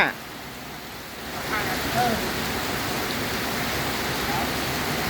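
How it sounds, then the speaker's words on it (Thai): Steady, even rain patters close by in a dense hiss, with no gusts, continuing throughout. "ฝนตกฝนตกแบบไม่มีลมเลย ตกแบบนิ่งๆเลย"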